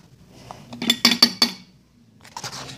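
A very small spoon clinks against a container while mixing baby oil with cornstarch, giving a quick run of four bright metallic taps close by, followed after a pause by a softer scrape and clink.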